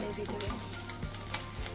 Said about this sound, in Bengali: মাছটা ভেজে নিচ্ছি, এখন এর ভিতরে মশলা দিয়ে দিলাম।